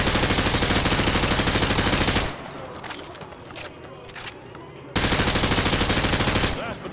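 Call of Duty: Modern Warfare 2 training range gunfire, weapons penetrating light cover: two loud sustained bursts of rapid automatic fire, separated by a quieter stretch with scattered single shots and impacts.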